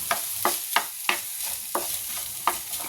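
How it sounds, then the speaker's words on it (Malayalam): A spatula stirs egg and rice frying in a pan, striking in sharp scrapes about every half second over a steady sizzle. "നന്നായിട്ടൊന്ന് മിക്സ് ചെയ്യുക. എല്ലാം കൂടെ നന്നായി മിക്സ് ചെയ്യുക."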